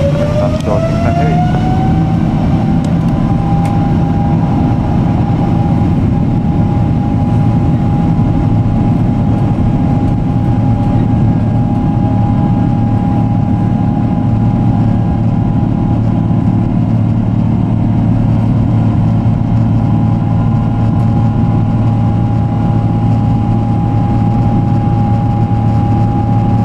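An Air France Boeing 777-200ER takes off from runway 24 left at Los Angeles, heard from inside the cabin as a loud, steady engine roar with a whine that climbs in pitch at the start and then holds.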